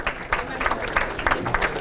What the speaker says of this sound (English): they deserve a round of applause also